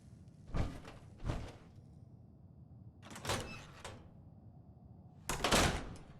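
A heavy metal door in the Fallout 4 video game cycles through several mechanical sliding opening clanks, three separate bursts spaced a few seconds apart, each loud and close over a low hum.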